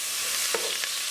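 Onion frying in melted butter in a pan, a steady bright sizzle with a couple of brief crackling pops.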